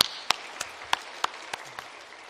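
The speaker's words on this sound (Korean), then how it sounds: "박수 한번 하십시오" A handful of scattered, sparse handclaps from a church congregation during a Wednesday worship service, faint and spread over a couple of seconds with gaps between them.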